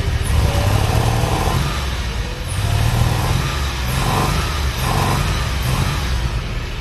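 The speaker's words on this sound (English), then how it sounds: "as it's revving up, it's breaking up a little bit" A DeLorean engine with a suspected air-fuel mixture problem and vacuum leaks revs repeatedly, stumbling and breaking up as it climbs. The rough, loud engine note rises and falls in close, steady waves and runs alone with no voices.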